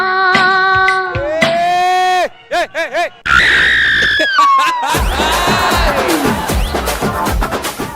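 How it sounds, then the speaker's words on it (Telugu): A loud, shrill ghost scream sound effect in a comedic Telugu skit, rising wails and a wavering cry that break off briefly before a long screeching howl returns over a noisy, crowd-like backdrop. "దెయ్యం అరుపుది."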